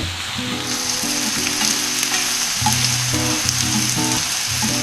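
Cabbage sautés in a hot pan with a loud, steady sizzle and crackle that continues throughout, with music in the background and no voices.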